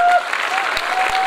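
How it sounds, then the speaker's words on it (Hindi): A group of children in a class clap together for a brief moment, producing a dense, fairly loud burst of applause with a faint voice mixed in. "सब लोग दूर-दूर तालियां बजाएं।"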